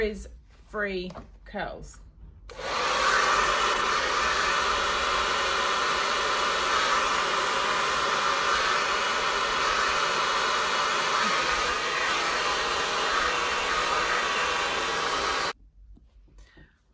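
A hair dryer blows on curly hair. Someone talks briefly, then the dryer roars as a loud, steady rushing blast for about thirteen seconds before cutting off abruptly.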